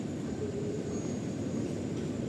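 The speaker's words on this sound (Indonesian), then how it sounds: "Nah ini untuk kereta selanjutnya sudah datang." A Jakarta KRL commuter train pulls into a station platform, a steady loud low rumble and rolling roar with a faint high whine, continuous throughout.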